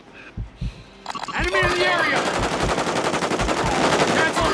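Automatic gunfire in the Warzone video game, starting with a few isolated booming shots and then breaking into sustained, rapid bursts, loud and close, with players talking excitedly over it.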